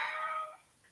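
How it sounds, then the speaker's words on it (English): A house cat cries for attention and play, one drawn-out meow close to the mic, loud at first and fading, with a faint short chirp near the end. "that's my cat crying for pets and play"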